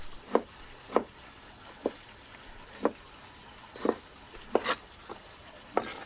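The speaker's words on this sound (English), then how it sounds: "Now, I'm moving on to finally chopping tomatoes." A knife chops tomatoes on a board at an outdoor mountain homestead kitchen in Azerbaijan, with sharp, fairly close cuts landing at an irregular pace over a quiet background.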